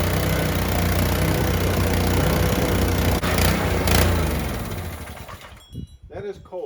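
A small cold engine runs just after starting, a steady loud rough drone that holds for about five seconds before cutting out, leaving faint clanks and scattered sounds.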